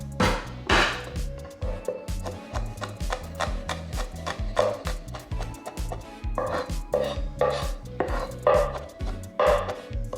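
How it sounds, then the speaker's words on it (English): Knife smashing and mincing garlic on a cutting board, rapid close rhythmic chopping thuds and knocks, continuous and fairly loud, with no talk. "The garlic, I'm just going to smash and mince."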